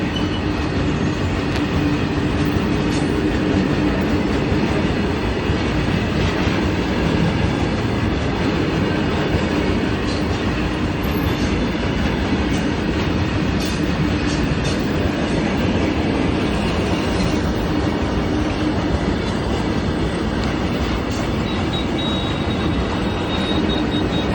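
A passing train with a long string of railway coaches roars steadily and loudly close by, with continuous rumbling and rattling wheel noise throughout.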